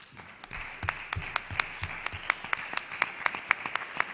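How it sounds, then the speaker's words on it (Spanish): An audience at a costume talk about the Asturian Primitive Way applauds, starting with scattered claps and building into steady, fairly close clapping with sharp individual hand claps standing out. "¿Aplausín?"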